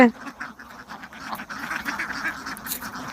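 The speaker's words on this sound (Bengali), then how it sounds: "আর এখানে হচ্ছে সব নরা হাঁস এগুলো মাংসের হাঁস" A flock of meat ducks raised free-range on an open wetland in Bangladesh quacks steadily and fairly close, a continuous overlapping chorus of calls throughout.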